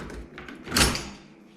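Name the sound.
pulling off an old door handle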